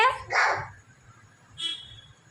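A voice imitates a dog, giving two short bark-like yaps close together, then a third after a pause, over a faint low background hum.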